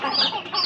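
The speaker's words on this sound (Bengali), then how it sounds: "এইখান দিয়েই সারাদিন থাকে মুরগিগুলো" Chickens kept in a garden cluck close by in a short pair of quick, bright calls, with no voices.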